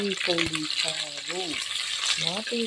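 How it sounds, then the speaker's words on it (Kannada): Onions and curry leaves frying in a pressure cooker for a village-style chicken curry, a steady high sizzle running throughout beneath a voice talking over it. "ಇವಾಗ ಬಾಣಲೆ ಕುಕ್ಕರ್ ಇಟ್ಟು ಸ್ವಲ್ಪ ಪಲಾವೆಲ್ಲ ಕರಿಬೇವಿನ ಸೊಪ್ಪು ಈರುಳ್ಳಿ ಫ್ರೈ ಮಾಡ್ಕೊಳ್ತಾ ಇದ್ದೀನಿ"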